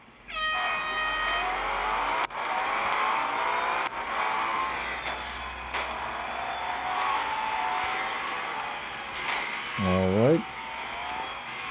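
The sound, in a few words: GT4 race car engines in Euro Track Masters video game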